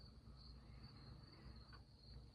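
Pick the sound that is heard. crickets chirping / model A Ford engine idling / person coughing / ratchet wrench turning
crickets chirping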